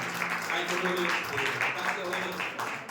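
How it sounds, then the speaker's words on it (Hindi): A church congregation claps in praise of Jesus, a broad, steady patter of many hands in a worship hall, with voices talking and calling out over the clapping. "यीशु मसीह की ताली बजा के प्रभु के नाम की तारीफ करें"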